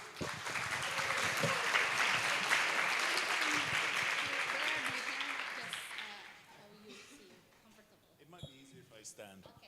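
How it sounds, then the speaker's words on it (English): Dense audience applause for a guest lecturer on globalization fills a hall for about six seconds and then fades, followed by faint talk and shuffling. "Please give him a round of applause."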